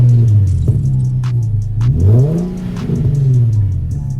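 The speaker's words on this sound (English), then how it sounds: "an axle back exhaust so it would give the car a little more sound" Infiniti G37 fitted with an axle-back exhaust, engine revving up and down in a couple of loud, close rises and falls over a deep idle rumble, no voices.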